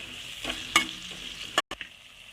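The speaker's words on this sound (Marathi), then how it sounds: "टॅमॅटो सॉस टाकत आहोत हे सर्व परतवून घेत आहोत" Egg fried rice with Schezwan chutney and tomato sauce being tossed in a hot pan, giving a close sizzle with a few sharp scraping stirs and a brief cutoff, no voices present.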